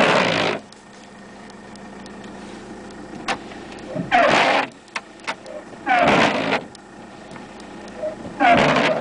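A Mercedes-Benz Sprinter 411 van engine cranks and starts in repeated short bursts, each a loud mechanical whir of about half a second to a second, separated by a quieter steady hum and a few faint clicks.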